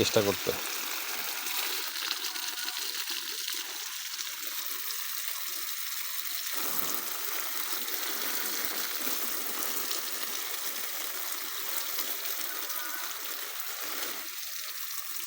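Water from a mud pump pours steadily onto the bases of mulched garden plants, including young coffee plants, making a continuous close rushing, trickling wash that holds at an even level throughout.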